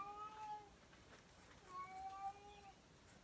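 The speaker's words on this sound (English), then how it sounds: "My kitty cat's getting mouthy." A cat meows twice, soft and drawn out, with a short pause between the calls over faint background noise.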